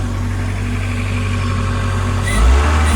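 A budget Toyota MR2 with a blown head gasket idles steadily while its front radiator cooling fans run, giving a constant whirring hum over a low engine drone that swells slightly toward the end.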